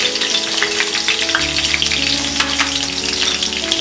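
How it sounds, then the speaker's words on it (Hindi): Mustard seeds, green chili and asafoetida hit hot oil in a pan, crackling and sizzling loudly and continuously with popping bursts, close and alone without talk. "तेल गरम हो गया है। अब हम इसमें डालेंगे ये राई, ग्रीन चिली, हींग"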